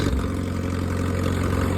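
An old 1946 Hudson tractor engine revs high with a worn throttle bearing, a loud, steady, rumbling drone held close up with no speech over it.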